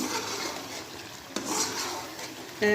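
Cream being stirred into a chicken tarka karahi in a pan, a steady soft scraping and mixing texture with a light sizzle underneath, one sharper knock partway through and a louder clatter at the end.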